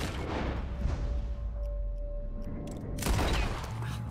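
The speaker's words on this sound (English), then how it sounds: "Damn right, I shot it out of his fucking hand" A gunshot in Red Dead Redemption 2 lands as a loud, booming crack near the three-second mark, after a steady bed of rumbling game sound and a sustained tone, with no talking over it.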